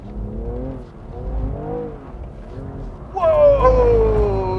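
A BMW M2 CS engine drones as it drifts on a soaked wet track, then sharply revs up and holds a loud, rising whine as power is applied.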